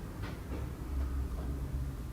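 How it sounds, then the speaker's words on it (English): A small toy train runs through a Christmas village display in a shop on a loud Cairo street, giving a steady low rumble with faint rhythmic clatter, mixed into street noise. "Little train goes through this section."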